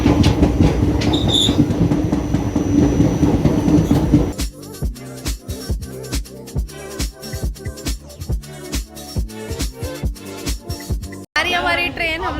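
The Jhelum Express passenger train rolls along with a loud rumble at first, then turns to rhythmic wheel clatter over rail joints, close by and continuous, ending in a brief squeal.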